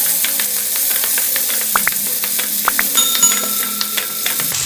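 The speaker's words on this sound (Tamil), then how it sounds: "இப்போ நல்லா ஆயிலில் வதக்கி கொடுத்துக்கலாம்." Onion and ground spice paste sautéing in hot oil, a steady close sizzle with scattered scraping and stirring clicks from a spoon against the pan, no voice over it.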